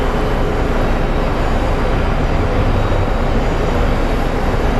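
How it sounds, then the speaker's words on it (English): An Alaska Airlines jet comes in to land at Phoenix Sky Harbor airport, a loud, steady broadband engine roar that fills the whole stretch without pause or voices. "here comes a little Alaska Airlines coming in"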